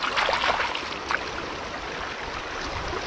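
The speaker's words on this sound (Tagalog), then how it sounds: "May maagas na tubig." Stream water flowing steadily and fairly close, a constant bright trickling and gurgling wash with a few small splashy accents, no voices over it.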